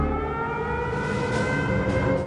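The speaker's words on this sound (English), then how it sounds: "During a chaotic air raid, the blaring sirens force the orphanage into evacuation." Air raid sirens blare in a chaotic wartime town scene, a loud, sustained mechanical wail that holds steady throughout with no speech over it.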